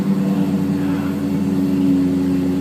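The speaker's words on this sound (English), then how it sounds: "you can probably hear that beautiful V10 in the background" A 2012 Lexus LFA's V10 engine idles with a deep, even hum nearby, a low rumbling drone with no voices over it.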